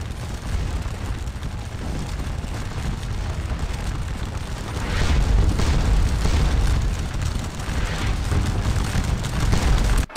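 Continuous cannon and musket fire rolls through a Napoleonic battle in the video game Scourge of War: Waterloo, a dense, rumbling wall of booms and volleys that swells louder about halfway through, with no talking.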